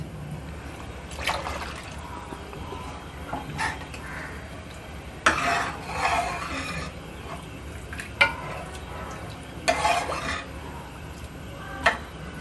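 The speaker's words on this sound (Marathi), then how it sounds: "आता हे जरा ढवळूया आणि अंदाजाने पाणी घालूया।" A spoon stirs cooked dal and vegetables into a tempering in a pot for sambar, making intermittent soft scrapes, clinks and wet sloshing bursts against a quiet background.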